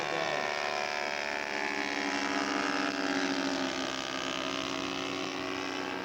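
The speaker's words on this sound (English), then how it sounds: "Here comes John for a flyby." Scale model DR-1 aircraft engine droning steadily during a flyby, loud and continuous with a slight pitch shift as it passes, under light talk.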